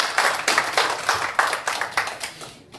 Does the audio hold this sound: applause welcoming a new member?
yes